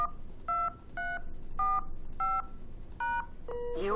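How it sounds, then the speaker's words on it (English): Touch-tone keypad presses on a Cisco IP phone entering a meeting ID and PIN, about seven evenly spaced DTMF beeps, loud and close over a faint steady tone. "I'll dial the same meeting ID. And then I'll also dial the same PIN."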